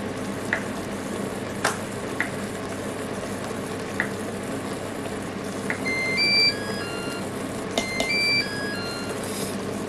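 Lentils with tomato bubble in a pot with a steady soft sizzling simmer, broken by a few short, high electronic beeps.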